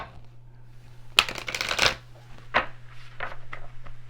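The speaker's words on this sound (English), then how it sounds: "One more shuffle, Taurus." Oracle cards are riffled and shuffled up close, a sharp burst of rapid flicking followed by softer taps and slides in a quiet room.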